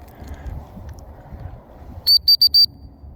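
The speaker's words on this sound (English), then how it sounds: "And I'm going to whistle to have him come back." A dog training whistle recalls a Labrador retriever in strong wind, sounding as four sharp, loud high-pitched blasts in quick succession after wind rumble, with no talking.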